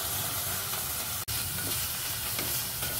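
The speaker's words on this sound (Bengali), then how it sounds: "মশলাটা ভালো করে ভাজা হয়ে গেছে।" Spice mix and moong dal with broken wheat frying in a pan, a dense, steady loud sizzle and hiss broken by one very brief dropout.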